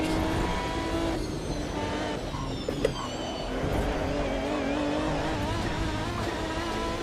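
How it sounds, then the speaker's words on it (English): A naturally aspirated V12 race car engine in the Automobilista 2 racing game, a sustained loud droning howl with shifting pitch as revs rise and fall, brief dip and shift change midway, continuous with no speech. "I'm pretty sure this is a naturally aspirated V12"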